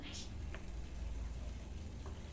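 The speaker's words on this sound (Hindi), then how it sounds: "इस तरह थोड़ा सा भून लेंगे" Small chopped tomatoes frying in a pan for aloo methi, a faint, steady sizzle with a low rumble underneath and a few soft stirring touches.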